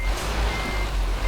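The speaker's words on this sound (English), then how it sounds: "Let's reverse." A truck's reversing alarm in Euro Truck Simulator 2 with Promods, hauling a petrol tanker as heavy cargo, sounds a steady high-pitched beep over the low rumble of an idling diesel engine.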